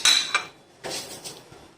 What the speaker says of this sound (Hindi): मिक्स कर लेंगे इसको अच्छे से